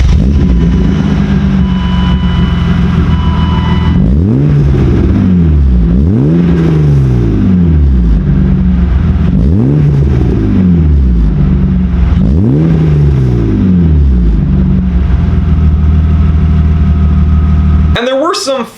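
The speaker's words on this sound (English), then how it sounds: "I also did something to the exhaust." BMW E36 M3 with a modified exhaust, idling loudly up close, then blipped through four or five sharp rev swells that rise and fall in a regular pattern before settling back to idle and cutting off.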